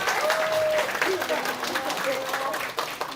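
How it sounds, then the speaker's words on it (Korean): A Buddhist graduate school alumni gathering at Dongguk University welcomes a professor with fairly soft applause from a modest crowd, mixed with faint tonal room sounds and a murmur of voices. "큰 박수 부탁드립니다."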